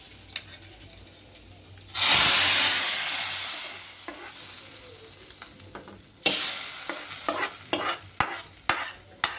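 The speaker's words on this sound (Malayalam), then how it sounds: "ഇനി നമുക്ക് നമ്മുടെ സാമ്പാറിലേക്ക് താളിച്ച് കൊടുക്കാം ഗൈസ്" Curry leaves dropped into hot oil for a sambar tempering, a loud sudden sizzle that bursts up, hisses steadily and fades, then sharper crackles and spits pop in short bursts near the pan.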